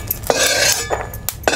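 Roasted peanuts, cumin and sesame seeds are scraped and tipped into a metal plate, giving several sharp metallic clinks and scrapes of a spoon against steel spaced a few tenths of a second apart, close and clear.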